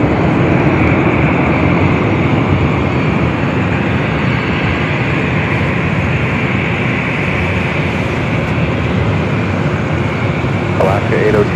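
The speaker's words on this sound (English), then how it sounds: "Air France also coming up here for north side takeoff" An Air France jet takes off from LAX, a loud, sustained broadband engine roar at a distance that stays steady throughout, with voices talking over it.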